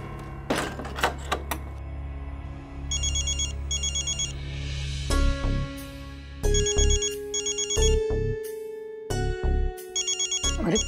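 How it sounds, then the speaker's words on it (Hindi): A phone ringtone chirps in repeated electronic bursts, several rings in a row with short gaps, loud and close amid some background music and thumps. "अरे फोन उठाइए, एमएलए पाटिल साहब का फोन है।"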